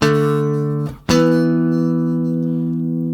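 Two sustained guitar notes sounding together as a bright power chord, struck twice with a brief gap, ringing out steadily without any talking.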